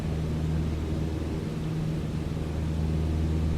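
L-4 Grasshopper light taildragger airplane in Microsoft Flight Simulator, its engine a steady low droning hum with constant tone throughout.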